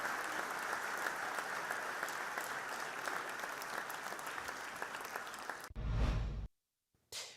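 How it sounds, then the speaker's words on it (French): Applause from a studio audience at the close of a late-evening French TV news broadcast, a steady dense clapping for several seconds that cuts off abruptly into near silence. "Je crois qu'on peut vous applaudir."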